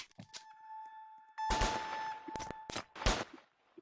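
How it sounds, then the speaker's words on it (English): Gunfire in the Roblox ERLC police roleplay game: a few sharp broadband bursts, about three or four close cracks spaced over a couple of seconds, with a steady synthetic tone running underneath. "Shots fire, shots fire!"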